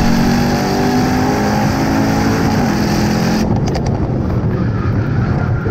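A Mercedes E63S AMG sedan accelerates hard down a track straightaway, its engine roaring loudly and climbing in pitch before an abrupt gear change. The engine then pulls on strongly, close and continuous, with no talking.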